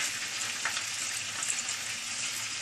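Onion sautéing in melted butter in a frying pan, giving a steady, continuous close sizzle and crackle throughout with no speech.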